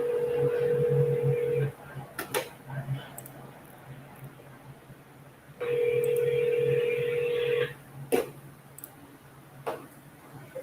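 A phone call is dialed on a mobile during a wholesaling calling session: two sustained tones separated by quiet gaps, with short beeps and clicks in between and faint voices in the background.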